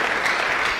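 Audience applause: a short, dense burst of clapping from a seated crowd at an academic talk, steady and fairly close.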